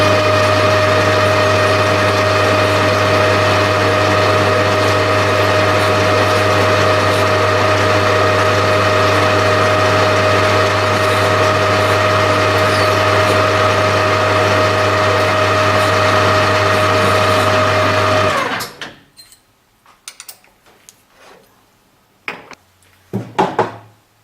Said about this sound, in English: I'm taper turning with my top slide turned toward me